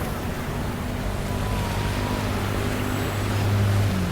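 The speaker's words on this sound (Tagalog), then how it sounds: "Lakas ng alon, no?" Strong waves wash against the rocky edge of Manila Bay, a continuous loud rumbling surge with a low engine-like hum underneath that swells slightly toward the end.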